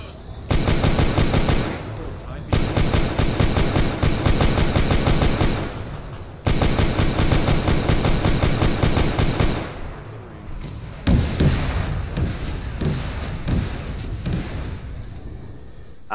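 Video game gunfire from automatic weapons rattles in long, loud, continuous bursts with short pauses between them, then thins into scattered, quieter shots toward the end.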